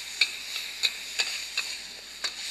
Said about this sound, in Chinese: 然后把这个香肠跟这个香菇呢下锅